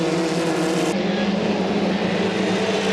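Racing powerboats in a 2.5-litre class round a turn at Valleyfield, making a loud, continuous high-revving engine roar that fills the whole stretch with no pause.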